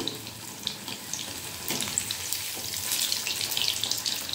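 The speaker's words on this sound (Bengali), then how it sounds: "এইভাবে উপর দিয়ে হালকা হালকা তেল দেবেন, তাহলে বেগুনিটা খুব সুন্দর ফুলে উঠবে।" Battered eggplant beguni frying in oil over a medium gas flame, giving a steady, continuous bubbling sizzle with brighter crackles that swell slightly toward the end; no voices.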